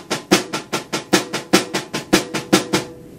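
Snare drum played softly, 16th-note pianissimo sticking in the right hand, about fifteen crisp evenly spaced strokes in a steady rhythm, close and alone.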